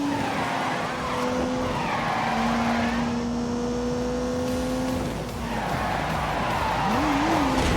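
A car with a turbocharged 3-litre straight-six engine skids on a race track, tyres squealing in long sustained whines over a roaring engine that briefly dips before surging again.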